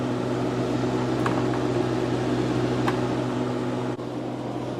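A Harvest Right freeze dryer runs with a steady, close mechanical hum and broadband whir. It holds constant throughout, with a few faint clicks and a brief dip near the end.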